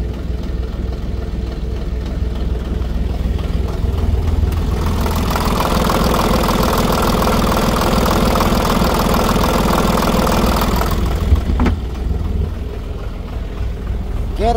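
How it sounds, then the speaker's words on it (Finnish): A diesel engine running on old fuel idles steadily at about 800 rpm with a low, even chugging rumble. A louder patch comes midway before it settles back to a quieter idle. "Tässä on nyt tyhjäkäynti vanhoilla polttoaineilla"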